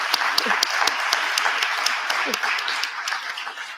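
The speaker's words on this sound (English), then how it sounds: "I think they deserve actually a little more applause" An audience at a PolicyWise AGM panel presentation applauds steadily with dense clapping and a few sharper claps that stand out. The applause fades slightly toward the end, with faint voices murmuring underneath.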